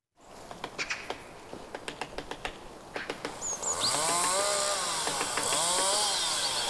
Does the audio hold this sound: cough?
no